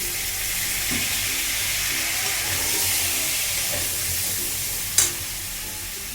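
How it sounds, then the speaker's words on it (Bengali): Potato pieces frying in hot oil in a wok, a loud, steady sizzle and hiss that stays constant, with a sharp clatter near the end. "এবার কড়াতে যে তেলটা আছে ওর মধ্যে আমি আলুর টুকরোগুলোকে দিয়ে দেবো"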